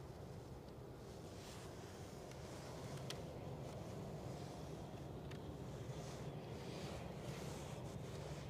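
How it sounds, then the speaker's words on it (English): Steady outdoor breeze at an Edinburgh plane-spotting spot, a continuous broadband wind rush with low rumbling gusts that swell slightly after the first few seconds and stay constant to the end. "Breeze is just picking up a little bit as well."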